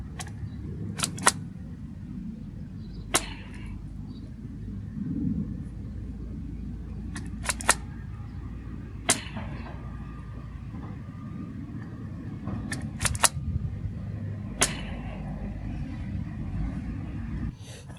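Roughly eight crisp, punchy clicks from the bottom barrel of a Nerf Star Wars Chewbacca foam dart blaster go off at irregular intervals against a constant low rumbling background, with nobody speaking.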